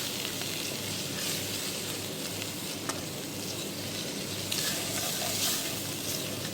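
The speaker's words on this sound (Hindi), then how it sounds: "इन सब चीज़ों को आपस में अच्छी तरीके से मिक्स कर लें" Garam masala, salt and turmeric fry and are stirred in a pan, giving a steady, close, dense sizzle with faint scraping throughout and no talking.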